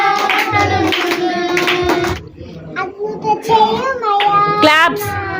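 Children and adults sing a Telugu Sunday school worship song, with rhythmic hand claps at intervals that sit under the singing voices.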